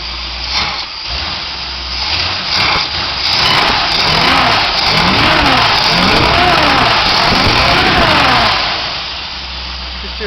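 A Dodge Coronet engine with a slight hesitation runs loudly up close, idling and then revving up and back down in a rising and falling roar, with a faint voice in the background.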